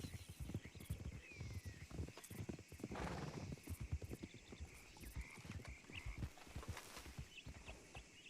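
Hoofbeats of a horse in a Western role-play video game clop steadily at close range, mixed with whinnies and ambient game sounds, while players talk faintly in the background.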